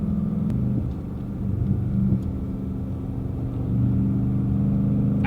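A modified 2015 Ford Mustang GT V8 pulls through a turn, a loud, steady low engine rumble heard from inside the car, with the pitch shifting and rising again as the throttle is held, and no talking.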